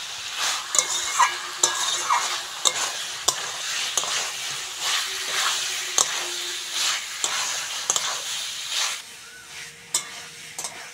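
A Bengali vegetable curry being stirred in a pan, with a soft bubbling sizzle punctuated by a series of sharp spatula scrapes and taps against the metal, fairly close and without speech.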